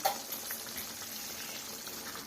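Gojju sauce simmering in a pan over a medium flame gives a steady, soft bubbling hiss with small pops, close and even throughout, with no voices.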